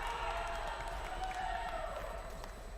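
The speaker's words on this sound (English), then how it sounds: "the crowd just going wild in the back" A crowd at a university Valorant esports semi-final cheers and roars continuously in the background, a steady wash of voices and whoops with a commentator talking over it.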